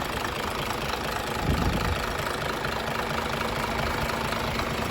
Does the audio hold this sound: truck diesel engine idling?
yes